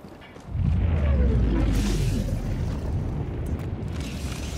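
A large explosion in the video game Helldivers 2, a loud deep boom swelling in after half a second and rolling on as a sustained low rumble with crackling debris, standing alone without talk.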